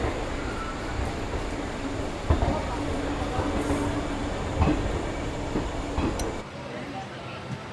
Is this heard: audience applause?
no